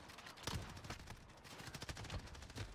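Auto shotgun gunfire in Call of Duty Warzone cracks out in rapid, irregular bursts of sharp shots, quiet and somewhat distant, with no talking.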